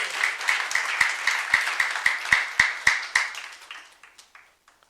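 A church youth congregation claps together in an even, rhythmic beat during a sermon, the unified claps landing close and loud before breaking into a few scattered claps and dying away.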